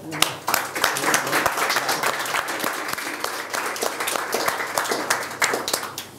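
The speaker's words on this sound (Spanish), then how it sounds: "Así que un gran aplauso para el profesor." Audience applause after a panelist is introduced at a Chilean economics debate: dense, steady clapping from a crowd, fairly loud and continuous, with scattered sharp individual claps standing out through the roughly six seconds.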